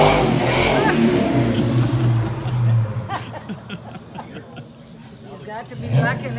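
A car engine catches on the first try and revs up loudly, then settles to a lower idle as people chuckle and talk nearby.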